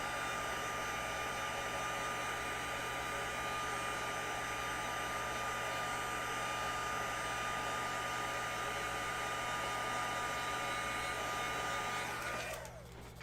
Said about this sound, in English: I'm going to hit it with the heat gun so I don't smudge it